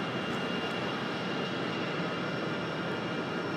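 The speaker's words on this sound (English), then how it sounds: "Alaska coming in tonight, 737 MAX 9 from San Diego, California" An Alaska Airlines Boeing 737 MAX 9 jet arrives at night at Raleigh-Durham airport, giving a steady, moderately loud engine rumble and hiss, heard alone.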